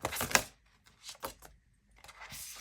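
A deck of playing cards being shuffled by hand, heard as a few short riffling bursts separated by brief pauses, close and fairly quiet.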